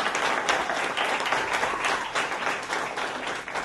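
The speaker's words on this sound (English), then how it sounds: "please give Liz a big round of applause." Dense, sustained applause from a concert audience at a summer jam camp show, a continuous wash of many hands clapping throughout with no speech over it.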